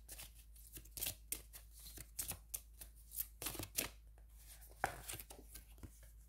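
Cards being shuffled close up for a card draw, heard as repeated crisp riffles and soft slaps in uneven bursts over a faint low hum.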